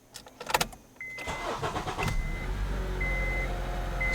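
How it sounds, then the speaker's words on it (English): A Honda Accord engine cranks briefly and catches, then settles into a steady idle with a soft tonal chime ringing over the running engine, heard close up inside the car. "I'm going to start the engine so I can show you what light I'm talking about."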